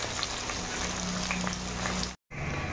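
Chopped onions frying in oil in a pan for a chicken gravy, giving a steady dense sizzle and crackle that runs unbroken, cuts out briefly near the end, then resumes.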